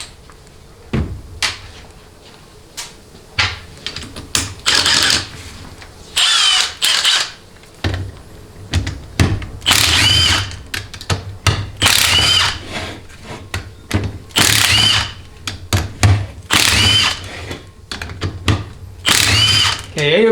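A power tool spins out 10mm pump bolts on a Ford AOD transmission, several short whirring bursts separated by pauses, close and loud, with someone talking between them.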